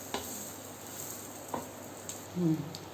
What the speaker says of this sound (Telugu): డిప్ చేసి ఇలా వేయించుకోండి.